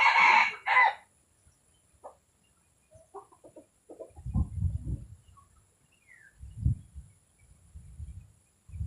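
A rooster crows loudly at the start, then low clucks and grumbling calls from nearby chickens follow in short bursts.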